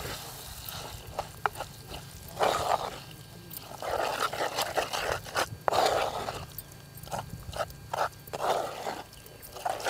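Ground ridge gourd chutney is stirred into a hot tempering in a pan, giving a sizzle and frying crackle with repeated scraping strokes and bursts of spitting, fairly close and loud, without speech.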